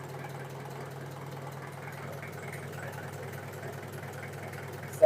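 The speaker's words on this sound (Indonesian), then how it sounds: "nanti saya coba hidupkan mesinnya ya" A Daihatsu Taft engine idles with a steady, low, fairly quiet hum and a faint regular pulse, running alone with no talk.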